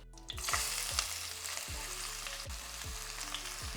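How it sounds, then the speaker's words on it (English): Sliced onion fries slowly over medium-low heat in a pan with whole spices and a pinch of salt, giving a steady dense sizzle close by, with faint utensil taps now and then and no talk. "Fry the onion slowly and nicely till they are nice golden brown."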